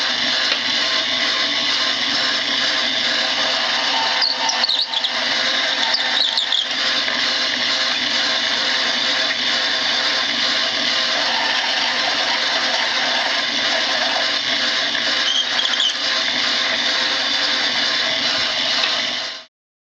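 Power case prep tool spinning while trimming and cleaning 45-70 brass cartridge cases, a sustained high-pitched whirring motor with scraping and squealing contact noise, close and loud throughout before cutting off abruptly at the end.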